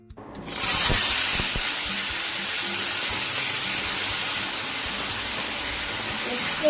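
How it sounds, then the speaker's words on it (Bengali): Bitter gourd and potatoes frying in a pan: a loud, steady sizzling hiss starts abruptly within the first half second and carries on without a break, close and continuous. "এদিকে উচ্ছে আলুটা ভেজে নেবো"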